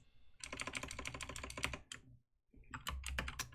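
Rapid, uneven keystrokes on a computer keyboard, loud and close, clattering in two bursts with a brief pause between them and no voices.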